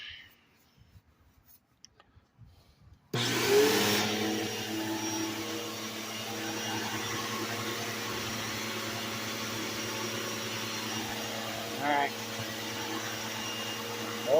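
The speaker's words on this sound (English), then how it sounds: "going to go into the vacuum cleaner hose. Right there. And it'll start sucking oil." A vacuum cleaner switches on abruptly after a quiet start and runs as a steady, loud roaring whine, drawing oil through the hose of a DIY oil extractor for a Phatmoto or Sikk Ped motorized bicycle, with brief handling noise partway through.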